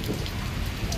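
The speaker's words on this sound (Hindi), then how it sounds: "क्या ज़बरदस्त बारिश हो रही है" Heavy torrential rain pours down in Islamabad, a steady, dense roar of drops hitting surfaces, close and continuous, with no voices.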